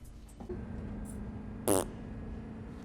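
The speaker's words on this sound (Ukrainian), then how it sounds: "Курва мать, то ти пердануло!" A short, loud fart with a fluttering, buzzy texture bursts out alone over a low steady background hum, lasting well under a second.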